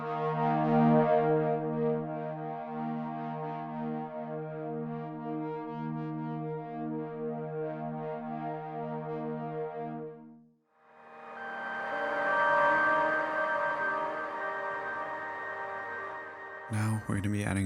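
A lush ambient pad from the Vital synthesizer holds a sustained, harmonically rich chord, swells into a brighter airy texture after a short dip, then cuts off abruptly. It sounds alone with no talking.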